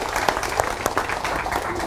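Audience applause at a motivational seminar, a steady wash of many hands clapping with a few sharper individual claps standing out, moderately loud and continuous.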